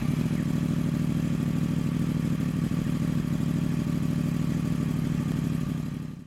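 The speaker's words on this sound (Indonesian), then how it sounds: "Lalu untuk suara mesin crossplane kayak Yamaha R1 kayak gini nih." A Yamaha R1 crossplane motorcycle engine holds a loud, steady, throbbing run up close, with an even rumble and mechanical clatter that continues without a break until it fades out at the end.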